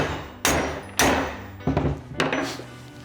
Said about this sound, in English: I'm going to hit it a few times so it goes out about 10 mil or so